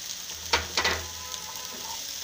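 About a kilogram of shelled green peas with salt gets stirred in a cooking pan, a few soft scraping stirs over a low, steady sizzle.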